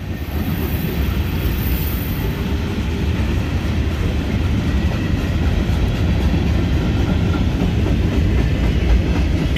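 A Norfolk Southern freight train rolls steadily past up close, coal hopper cars rumbling loud and continuous with rhythmic wheel clatter over the rails and no pauses.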